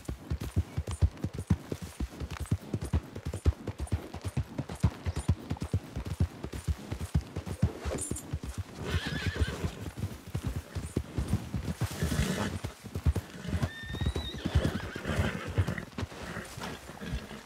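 Horse in Red Dead Redemption 2 with a long run of steady, rhythmic hoofbeats, close and prominent, broken by a couple of whinnies later on amid game background sounds.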